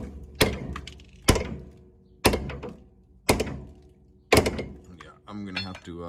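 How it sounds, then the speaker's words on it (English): Five sharp metallic whacks struck on a Mopar torsion bar to loosen it, spaced about a second apart, each ringing briefly and decaying, followed by a short rattling clatter at the end. "I'll give it a whack here and just see if she budges at all"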